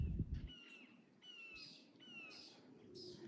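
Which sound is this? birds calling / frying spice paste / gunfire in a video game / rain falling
birds calling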